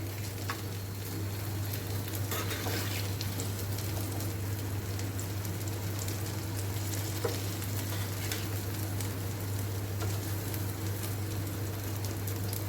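Chhole tikki frying in hot oil, a steady dense sizzle with soft crackles and occasional stirring clicks running throughout, close and even with no talking.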